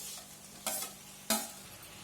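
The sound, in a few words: chopped tomatoes and green chillies stir-fried in pan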